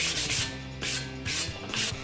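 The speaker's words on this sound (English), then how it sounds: "Now I've moved to a sanding block with 220 grit sandpaper." A sanding block fitted with 220 grit sandpaper rubs over a shovel blade in short, even back-and-forth strokes, close and loud with no talk, about four passes in quick succession.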